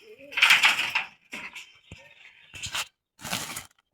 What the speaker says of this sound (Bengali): এদিকে দেখেন কবুতরগুলো সব বাইরে ঘোরাফেরা করতেছে।